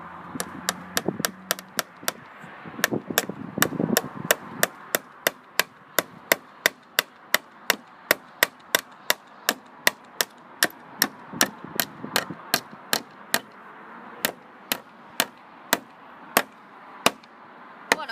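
A hammer drives the last wooden plank onto a cabin, giving sharp, evenly spaced blows that repeat dozens of times, close and loud, with no talking.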